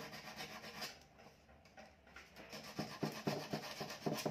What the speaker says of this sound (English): Just one sandpaper.